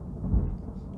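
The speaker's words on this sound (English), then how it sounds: "Oh, thunder." A low, rumbling roll of thunder swells briefly and fades, a single muffled boom heard from a distance with no one talking.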